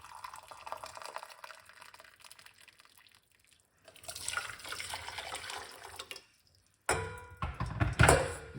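Hot water pours into a large cup in uneven splashing bursts with short pauses, the trickle fairly faint and close by, in a kitchen while a garlic, ginger and clove drink is prepared.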